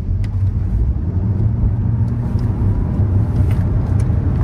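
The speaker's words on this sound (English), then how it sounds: "Let me just go and do a full throttle launch." A Chevy Volt launches at full throttle on electric power, heard from inside the car as a loud, steady road and tire rumble with a faint whine and no engine note.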